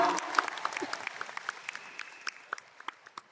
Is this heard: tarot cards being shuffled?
no